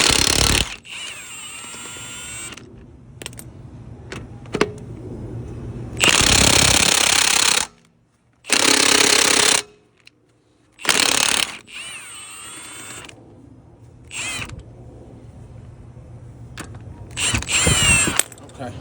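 A Milwaukee power tool removes lug nuts on a 2013 Audi Q5, hammering loudly in several separate bursts of one to two seconds. Quieter workshop noise fills the pauses between them.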